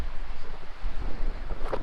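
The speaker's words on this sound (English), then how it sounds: "Pretty good breeze blowing." A strong breeze blows over a South Dakota reservoir lake, rumbling steadily as close, low wind buffeting with no one speaking.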